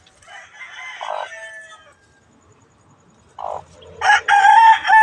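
A Hatch Gray gamefowl rooster crows loudly near the end, following quieter clucking and fowl calls in the first seconds.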